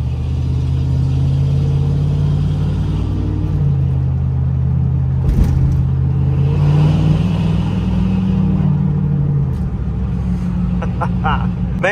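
Second-generation pickup truck engine with a modified exhaust rumbling loud and close, a deep steady idle with a throttle blip midway and a drop in tone near the end, with people talking over it.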